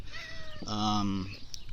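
A male house cat lets out one clear, drawn-out meow close by, rising and then falling, with a faint thin cry just before it and a few small knocks afterward.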